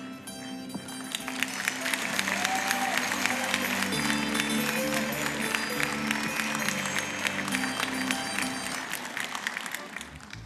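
A crowd applauds at the final of a folk accordion contest, dense continuous clapping filling the hall with steady loudness throughout.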